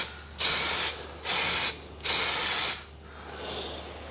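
A spray gun lays a light second coat of paint on a BMW E46 330Ci in an open, ventilated space, three loud hissing bursts of about half a second each with short pauses, then a softer trailing hiss.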